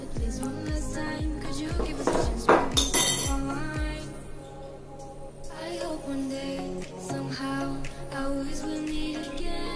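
A lid goes onto a pot of fish boiling on a high gas flame, with a cluster of bright metallic clinks and clanks around the middle, set against steady tonal background music.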